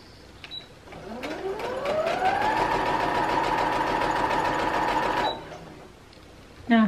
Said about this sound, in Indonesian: Ini mesin jahit saya itu elektrik.